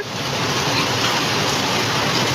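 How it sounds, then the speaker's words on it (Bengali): Dense, constant hiss of heavy rain pouring down with hail, loud and unbroken, with a rough texture of hailstones pelting among the drops. "শিলাবৃষ্টি মুসলধারে পরিমাণ শিলাবৃষ্টি হচ্ছে"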